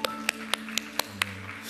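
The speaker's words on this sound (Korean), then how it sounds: "우리 하나님께 영광의 박수 올려드리시겠습니다." Church congregation applauding after a prayer at a live youth worship service, heard as a few distinct, spaced claps rather than sustained applause, fairly faint against a soft background hum.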